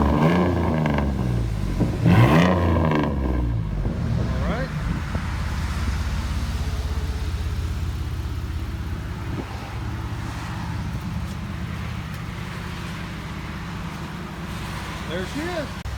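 A 2004 Chevy S10 crew cab with a 4.3 engine and dual straight pipes idles with a deep, steady exhaust rumble, close by. A person talks briefly over it at the start.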